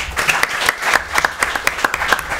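An audience at a school quiz show claps, producing a short burst of close, loud applause in which individual hand claps stand out in a quick, uneven rhythm.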